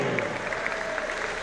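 A crowd applauding the two girls' finalists at the British Open & Classic, a brief burst of dense, steady clapping from an audience.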